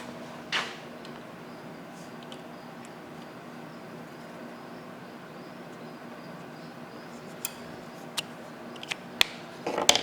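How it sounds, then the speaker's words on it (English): Brake line being cut on a 1964 Dodge Polara in a garage: a faint steady background hum broken by a few sharp, close clicks and snips, clustered toward the end. "Grab a marker and I'll cut this line off."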